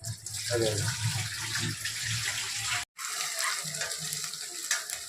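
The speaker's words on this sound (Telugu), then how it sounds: "ఇవన్నీ మటన్ 2-3 సార్లు కడిగేసుకోవాలి నీట్గా" Raw mutton pieces being washed by hand in water for a curry, close splashing and sloshing with a brief break partway through, no speech.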